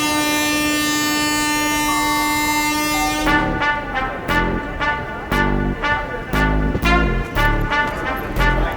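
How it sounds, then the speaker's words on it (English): A passing train blares a long, loud sustained horn, then cuts to the clatter and rhythmic thumps of carriages rolling by close at hand, heavy and steady to the end. "that train is going to Tanjavur."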